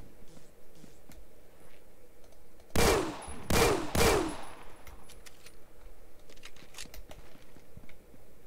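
Three sharp, loud gun reports in Phantom Forces on a quiet background, firing in quick succession around the middle and then giving way to faint movement and clicks.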